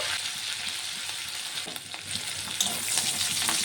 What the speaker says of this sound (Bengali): লঙ্কা রসুনটাকে আমি একটু ভেজে নিয়েছি